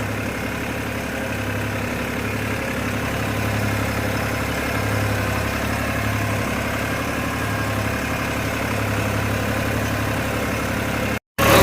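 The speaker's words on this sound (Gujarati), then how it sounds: "બધું ટ્રેક્ટર દ્વાથી મારવાનું ચાલુ જ છે" A tractor engine runs while levelling soil on a small farm field, holding a steady, rumbling mid-low drone with slight vibration throughout before cutting off abruptly at the end.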